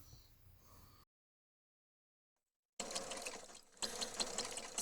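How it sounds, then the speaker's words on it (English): Overlock sewing machine stitching an edge on plaid shirt fabric at reduced speed, a steady close whirring that runs briefly, drops to silence for a moment, then resumes in two longer loud bursts. "So I'm sewing at a reduced speed"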